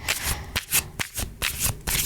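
A deck of playing cards being shuffled up close, with repeated crisp riffles and soft slaps in an uneven rhythm and no talking.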